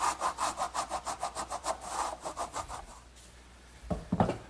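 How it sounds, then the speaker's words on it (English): A wood rasp shapes the inside of a mortise in hardwood, making rapid rhythmic scraping strokes, close and fairly loud, about a dozen even back-and-forth rasps followed by a pause and a couple of heavier final strokes. "now a little bit of work with a wood rasp"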